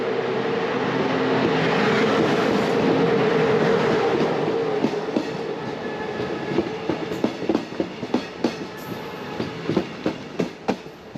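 A ZPCG local train in Montenegro rolls along the rails, a steady rumbling drone giving way to a regular clickety-clack of wheels over rail joints, close and continuous with no talk.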